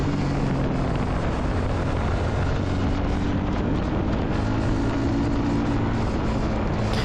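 Royal Enfield Shotgun 650 motorcycle engine while riding, heard as a loud, steady low drone with some wind rush, continuous and close with no speech.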